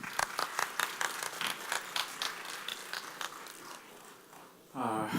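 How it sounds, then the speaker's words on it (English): Audience applause for the next speaker at a RubyC 2017 programming conference talk, sparse and moderately loud claps over several seconds that thin out, ending as a voice starts speaking. "Please applause."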